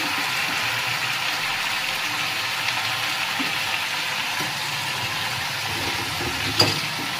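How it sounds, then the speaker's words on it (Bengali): Malabar spinach hits hot oil already seasoned with onion, panch phoron and dried red chilli, giving a steady, dense sizzle that holds evenly throughout with one small clink near the end and no talking. "কেটে ধুয়ে রাখা পুঁই শাকটা দিয়ে দেবো।"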